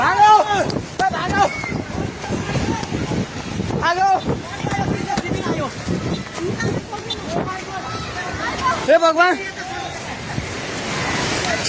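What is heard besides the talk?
flood water rushing over stones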